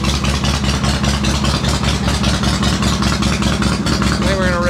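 A kick-started engine on a cold day runs loud and close with a throbbing, regular exhaust pulse, holding steady and rough throughout.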